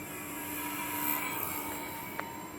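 An E-flite T-28B Trojan RC model plane flies overhead in the evening with its gear deploying, a faint, steady whining drone over quiet outdoor background.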